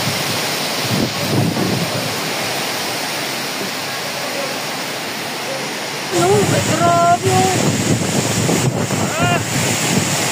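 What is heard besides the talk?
strong wind whistling in a typhoon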